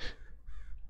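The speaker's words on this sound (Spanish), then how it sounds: "Escucho cuervos." Crows caw in a modded Minecraft 1.12.2 world, two or three harsh calls in quick succession, close and fairly loud, with no talk over them.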